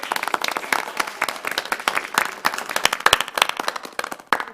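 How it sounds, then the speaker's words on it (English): Applause at a city council meeting, a room of people clapping steadily for a few seconds at moderate volume, dense overlapping claps with no speech. "a big round of applause"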